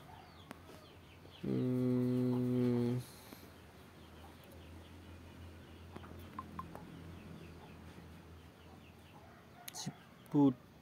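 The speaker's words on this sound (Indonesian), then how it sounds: "ayam berkokok." Rooster crowing sound from the Connect Animal mobile puzzle game, one loud crow lasting about a second and a half, followed by quiet game clicks and soft chimes.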